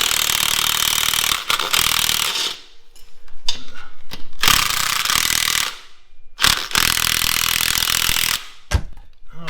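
A ratchet spins loose a 10mm strut bolt at the bottom of a car's suspension, loud and close, in several bursts of rapid clicking separated by short pauses.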